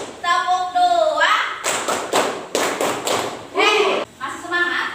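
Sixth-grade pupils in a religious education classroom clap a quick rhythmic pattern, several loud close claps in a row between stretches of a teacher's voice.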